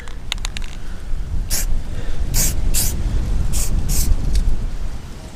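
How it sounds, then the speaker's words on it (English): Black spray paint hisses onto trailer bolts in several short bursts, each a second or less, close by over outdoor background noise. "throw a little black spray paint on them"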